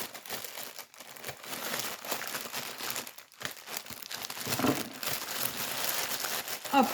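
Close, continuous crinkling and rustling of plastic and paper as a freshly delivered unboxing parcel of diamond painting supplies is opened and unwrapped, with short tearing bursts and a few brief pauses.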